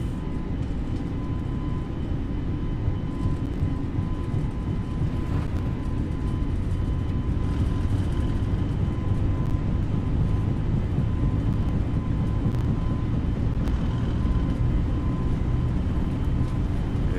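Airbus A320neo (FlyByWire A32NX) jet engines at full takeoff power in Microsoft Flight Simulator at Queenstown, New Zealand: a loud, steady roar with a thin whine on top and the rumble of the roll down the runway.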